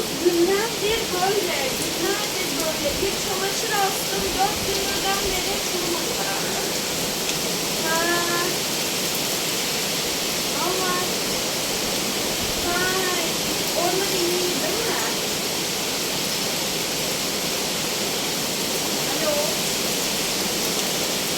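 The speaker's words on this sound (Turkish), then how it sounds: "O oluklar almıyor suyu. Oluklara sığmıyor su." Rainwater pours over overflowing gutters during a downpour in Denizli, Turkey, a steady, loud rush of splashing water running without a break, with faint voices in the background.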